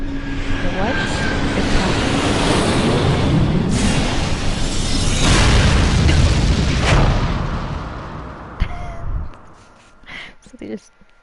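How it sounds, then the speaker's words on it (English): A bomb explosion in the video game 428 Shibuya Scramble: a long roaring blast rumble that swells and then fades into scattered crackles and thuds, with speech over it. "So they just dropped the bomb?"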